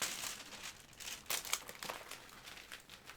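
A sheet of glassine paper being cut to size, giving crisp crinkling and rustling with sharp snipping bursts, close and fairly quiet, with no talking.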